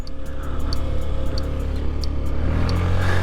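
A Honda Zoomer 50 motorbike pulls away on an estate road with a steady, close engine drone that rises in pitch as it gets going.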